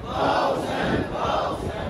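A large crowd chants religious slogans in unison at a Muharram gathering for Imam Hussain, a dense, steady roar of many voices, loud and continuous with swelling surges.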